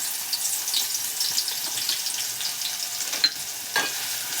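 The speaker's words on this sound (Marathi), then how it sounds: "आपण इथे आता पाच सहा पळी परत तेल घालून घेणार आहे बघा आपण लसूण टाकतोय जाडसर कुटलेला" Coarsely crushed garlic fries in hot oil with a continuous bright crackle, broken by a couple of sharper spatters and ladle scrapes near the end; no one speaks.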